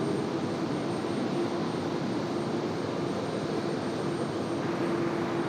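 Airbus A350 jet airliner passing at an airport, a steady broadband roar of jet engines with a faint tonal whine, loud and continuous throughout without talk.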